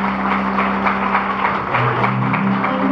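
Live concert audience applauding a band, a dense sustained wash of many hands clapping with crowd noise and a low musical hum beneath, steady and loud throughout.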